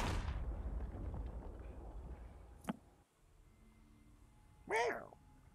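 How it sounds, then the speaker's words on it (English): Fireworks let off in a pirate video game: a sharp bang and a whistling burst stand out over game noise and ongoing voices. "you always gotta let the fireworks rip"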